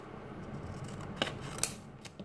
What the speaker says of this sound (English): I am going to cut this one.